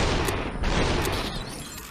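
Dense burst of rapid gunfire from a virtual reality action game, sharp overlapping shots packed into a continuous, loud, roaring volley with no voices.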